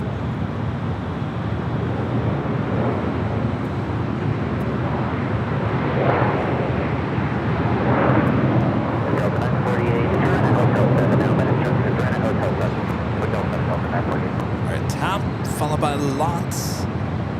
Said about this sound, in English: Taking off on the south side at 25 right.